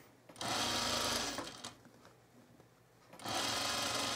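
A home sewing machine stitches culotte fabric in two bursts of fast, even whirring, separated by a short quiet pause for fabric handling.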